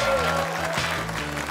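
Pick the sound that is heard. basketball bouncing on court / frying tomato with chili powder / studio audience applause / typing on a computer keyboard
studio audience applause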